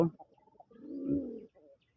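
A big male sky-blue pigeon coos close by, one low, rolling, throaty call swelling and fading after a few soft grunts.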